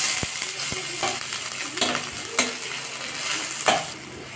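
Two dried chillies, crushed garlic and onion fry in oil in a wok, giving a continuous close sizzle with a few light utensil clinks.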